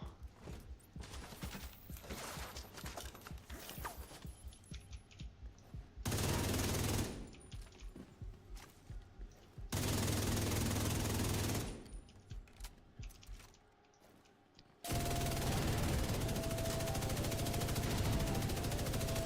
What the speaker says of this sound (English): I'm just shooting the wall because I can't see him